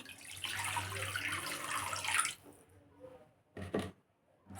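Water poured into a wok of potatoes for a mutton curry, a close splashing gush for about two seconds, then quiet with a couple of brief splashy bursts.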